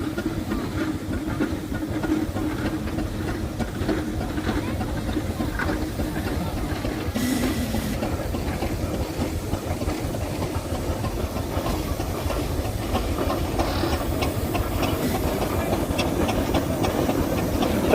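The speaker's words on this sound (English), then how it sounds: "So a 100-year-old steamer right in front of me now." A 100-year-old steam engine running at a steam fair in Driffield, giving a steady low mechanical rumble and chuffing churn that stays even and close, with no talk over it.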